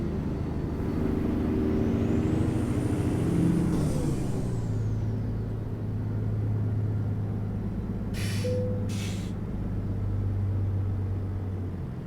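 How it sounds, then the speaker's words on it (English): Trucks in American Truck Simulator pull out of a weigh station, a steady engine drone with rising and falling rumble, a short hiss like an air brake partway through, and no talking. "look at all the trucks coming out"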